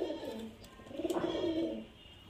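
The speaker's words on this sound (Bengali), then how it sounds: "একদম হাই ফ্লায়ার পায়রা ফ্রেন্ড।" High flyer pigeons give a soft, rolling coo, one rising and falling call from birds nearby in a quiet setting.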